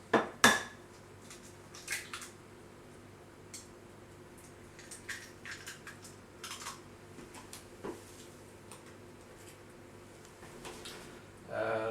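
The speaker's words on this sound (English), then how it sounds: "Next we break the egg into the bowl." An egg cracked against a bowl and dropped in while making a peanut butter omelette, with a couple of sharp clinks near the start, then quieter scattered kitchen clatter of dishes and utensils.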